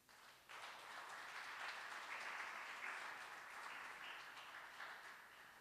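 A church congregation bursts into applause, a dense wash of many hands clapping that starts abruptly and keeps up steadily, fairly distant and moderately loud, with no talking over it.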